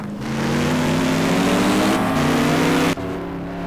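BMW GT2 race car accelerating on a wet track, its engine revving loud and close as the pitch climbs steadily, then a brief dip at an upshift before it pulls on again.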